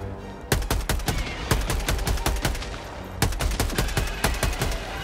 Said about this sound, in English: I just need to reload the machine gun.